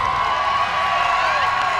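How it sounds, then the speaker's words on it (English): Dense, steady crowd cheering and shouting fills a baseball stands at a state championship game, loud and continuous with a whistle-like tone running through it. "Yeah, a lot of cheering, everybody on their feet here."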